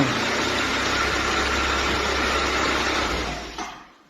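A homemade gas-fuelled generator engine idles steadily with a loud, even hum and vibration, then winds down and stops near the end.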